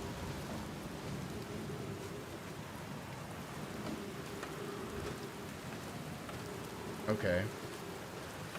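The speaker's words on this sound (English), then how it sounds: "this is a little bit of a stormy location." Rain and thunder in a stormy location in the video game Outer Wilds: a steady, soft downpour with a low, rolling rumble underneath, and a brief spoken word near the end.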